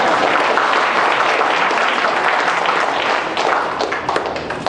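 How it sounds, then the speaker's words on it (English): An audience at a senior home in Richmond Hill, Ontario, gives a round of steady, fairly loud applause that stays dense throughout and thins slightly into scattered claps near the end. "You can applaud."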